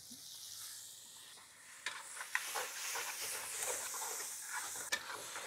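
Chopped onion frying in a pan with ginger, garlic and green chili for dhaba-style bhindi masala, a quiet steady sizzle with occasional sharp spoon taps and stirring scrapes, no talking.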